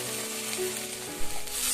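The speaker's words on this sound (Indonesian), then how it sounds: "ini saya pakai minyak sedikit aja ya bun untuk menumis bumbu halusnya" A paste of blended shallot and garlic sizzles steadily in a pan with a little oil, loud and close, with a brief stirring clatter near the end.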